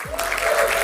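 Applause from an audience, a steady dense clapping that holds at a near, even level for under a second with no talk over it.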